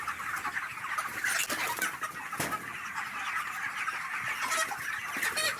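Broiler chickens about 38 days old on a chicken farm cluck and chatter together in a dense, continuous flock noise. Sharp scattered calls and wing flutters rise over a steady moderate din, with no voices.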